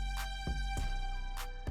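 Korg Triton analog strings patch holding a single sustained note, a steady droning pad under a sparse beat of thudding kicks and crisp hi-hat ticks, with no talking.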